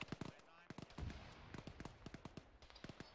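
Automatic weapon fire in the Arma military shooter, faint and distant rapid bursts of sharp cracks in an uneven, stuttering rhythm over a quiet background.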